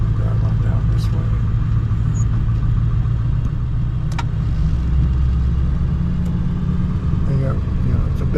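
A car drives along the Blue Ridge Parkway, giving a steady low engine and road rumble from inside the vehicle that continues throughout, with faint occasional clicks and a voice speaking over it.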